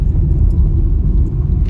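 A car on a road rumbling past as a steady, loud low-pitched drone that stays close and continuous throughout, with no voices.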